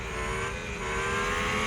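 Tires of a Formula 1 car skidding in the F1 2021 video game at the Italian Grand Prix, Monza, a continuous loud engine drone with hissing scrub steady throughout, no talk.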